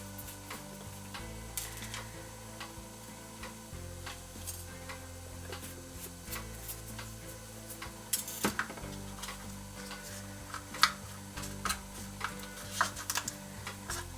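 The end of a spoon stirs Fimo deco gel in a small container, making quiet, irregular clicks and soft scraping taps that pick up in a brief cluster near the end, with no talking.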